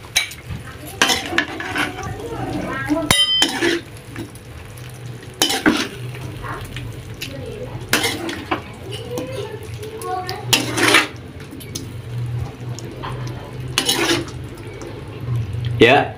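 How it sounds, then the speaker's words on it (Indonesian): Stir-fried beef tendon with green beans is scraped out of the pan onto a plate. Metal utensils clatter and clink in irregular bursts over a faint sizzle, and a voice speaks now and then. "Kita tuang ke atas piring."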